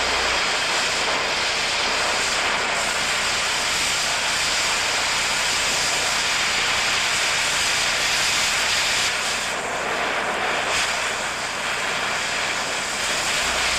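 Oxy-acetylene torch cutting through steel just above a weld on a T-joint, a loud, steady roaring hiss of the cutting jet held continuously throughout with a slight dip near the end.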